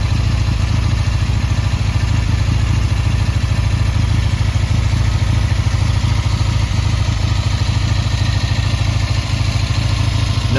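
A Triumph 650cc Bonneville motorcycle engine runs steadily and loudly up close, with an even, unbroken idle rumble throughout and no voices.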